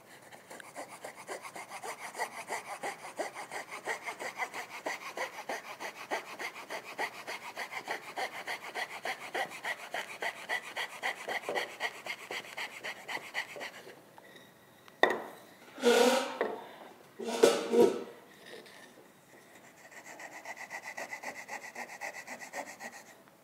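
A coping saw cuts through a wooden CO2 dragster blank with steady, rapid back-and-forth rasping strokes for about fourteen seconds, then a few separate, louder scraping strokes with pauses between them, close by and with no voices.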